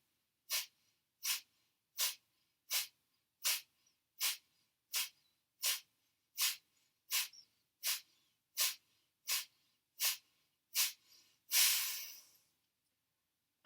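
Sharp, forceful breaths repeat in a fast, even rhythm during a dynamic yoga breathing exercise, about fifteen short puffs at close range, ending in one longer, louder exhale.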